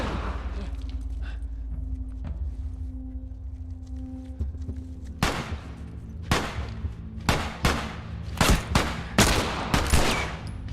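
Gunfire in The Last of Us Part II, a quiet stretch of ambience with faint rumble giving way to a run of loud, sharp shots fired in quick irregular bursts close by.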